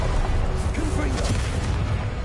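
In Hogwarts Legacy, a Confringo spell goes off with booming, explosive blasts amid constant loud combat noise, a spoken incantation mixed in with the chaotic fight.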